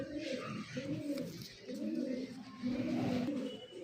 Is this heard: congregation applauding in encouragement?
no